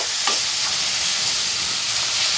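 Spice paste for a Bengali egg curry frying and being stirred in a pan, a steady, loud, close sizzle with a brief scrape of the spoon near the start.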